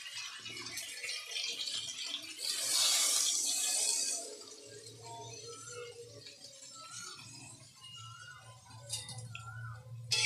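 Water splashes into a cooking pot of partly boiled potatoes in a home kitchen for about two seconds. Quieter rattling and kitchen clatter follow, with a low simmering rumble underneath.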